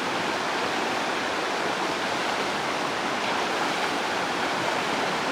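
River rapids on the Simojoki in Finland in August rush in a dense, continuous roar of churning water, close and loud, with no voices.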